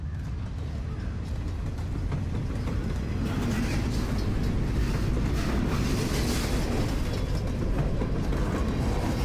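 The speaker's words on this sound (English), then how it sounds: "Hello, train." A train rolls past in the game Life Is Strange, heard as a steady, dense mechanical rumble with clanking and rattling wheels that holds at a constant loud level throughout.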